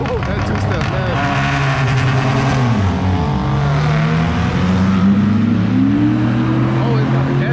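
A drag car launches off a two-step at a drag strip, its engine roaring and revving loudly as it pulls away, with people talking over the noise.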